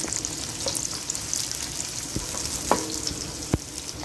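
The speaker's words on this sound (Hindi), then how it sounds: "2 प्याज जो है मीडियम साइज़ के रफली से चॉप कर लिए हैं, वो इसमें फ्राई करेंगे" Two medium onions, roughly chopped, sautéing lightly in oil for a Mughlai egg curry: a steady close sizzle and hiss throughout, broken by a few sharp spatula clinks and scrapes against the pan.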